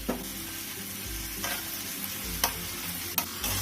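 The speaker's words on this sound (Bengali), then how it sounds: "এবার এর মধ্যে দিয়ে দেবো ভেজে রাখা চিংড়ি মাছ" Fried shrimp being stir-fried with spices in a pan for an echor chingri (jackfruit and prawn) curry, a steady sizzle with a few sharp spatula scrapes spaced through it, close and moderately loud, no talking.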